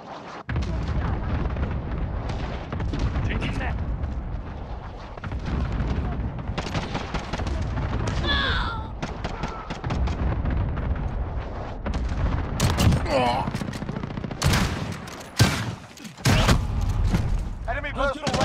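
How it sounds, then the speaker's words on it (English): Cluster strike explosions in Call of Duty: Modern Warfare, a dense run of booming blasts and rapid gunfire rumbling continuously and loudly, with brief voice callouts mixed in. "Allied cluster strike inbound."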